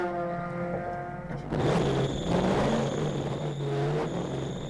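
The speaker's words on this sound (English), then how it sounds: "He's trying to refire the engine." Race car at a ChampCar endurance event at Gingerman Raceway being restarted after a spin: a steady idle hum, then the engine catches and rumbles loudly with a rising, whining belt squeal held over the running motor.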